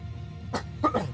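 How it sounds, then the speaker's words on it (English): A streamer gives a few short, harsh coughs close to the microphone during a live PokeMMO gaming stream, in two bursts over a quiet background. "Coughing a bit."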